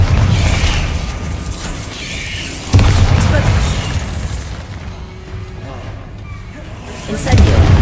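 Booming spell blasts from a wizard-school video game, several heavy bursts landing at intervals over a continuous rumble of game noise, loud and close.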